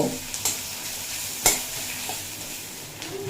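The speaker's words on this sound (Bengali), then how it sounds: "পেঁয়াজ নরম করে ভেজে নিয়েছি" Chopped onion softens in a frying pan for a drumstick-leaf dish, giving a steady, soft sizzle. A few sharp clicks of stirring sound close by.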